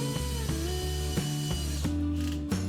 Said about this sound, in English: Line one side up with a stud and screw it in place.